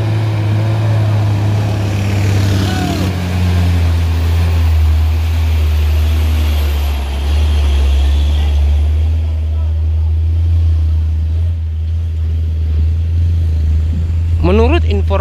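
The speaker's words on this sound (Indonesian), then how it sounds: "ada satu unit truk yang tidak bisa menanjak di tanjakan Batu Jomba" A heavy truck loaded with about eight tons labours up the steep rocky Batu Jomba climb, its engine droning loud and steady throughout, with a voice speaking over the rumble and a brief rising whine near the end.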